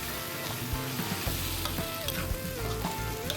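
Wide rice noodles and egg stir-fried in a wok for pad see ew, a steady loud sizzle with scraping spatula strokes and clanks throughout.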